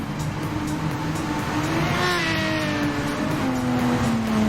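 Racing car engines roar at the Spa circuit in a racing video game, a continuous loud drone with one engine climbing in pitch as it accelerates past, then settling and falling away.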